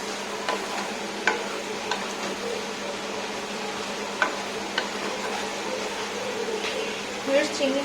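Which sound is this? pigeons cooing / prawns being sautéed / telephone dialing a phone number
prawns being sautéed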